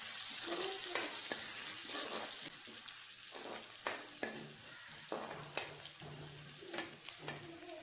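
Onion and beans frying for egg chowmein, a steady loud sizzle with repeated scraping stirs of a spatula in the pan, close and without talk.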